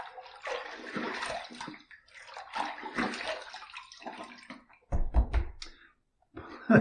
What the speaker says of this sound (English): Third pass done, let's rinse